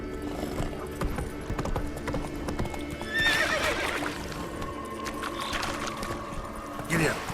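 Horse galloping in The Witcher 3 on PS4, rhythmic hoofbeats with a whinny and game ambience, a voice calling out over it.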